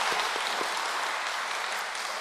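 A church congregation applauds, giving thanks, in a dense steady wash of clapping that fills the room from start to finish at an even loudness.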